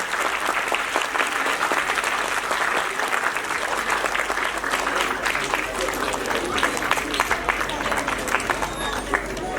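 Sustained audience applause welcoming guests at a school foundation's annual function, loud continuous clapping from a large crowd that keeps an even level for the whole stretch.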